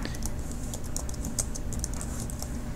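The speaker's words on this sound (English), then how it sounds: "I'm going to type down here" Fingers typing steadily on a computer keyboard, a continuous close patter of quick key clicks with no pauses and no voices.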